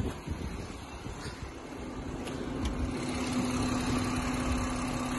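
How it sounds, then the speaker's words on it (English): A BMW M140i with the B58 engine idles steadily, a low, even rumble with a faint constant hum and light wind noise over several seconds. "So it's the B58 engine"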